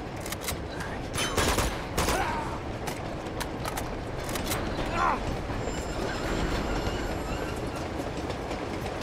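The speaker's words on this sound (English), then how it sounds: "Train is moving past." A train rumbling past in the video game Uncharted 2: Among Thieves, a steady loud mechanical roar with clattering bursts and gunfire-like cracks early on, heard without talk.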